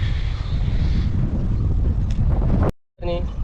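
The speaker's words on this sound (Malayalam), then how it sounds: "നല്ല കാറ്റാണ് നല്ല കാറ്റാണ്" Strong cold wind buffeting the microphone on the Kakkadampoyil hilltop in Kerala, a loud continuous rushing roar that cuts out briefly and returns.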